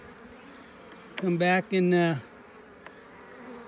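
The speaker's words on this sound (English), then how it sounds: "This one's got enough bees. I don't gotta add no bees to it." Honey bees buzz around a hive during queen work. Two loud, close buzzing bursts pass the microphone over a faint background hum, with a brief spoken phrase nearby.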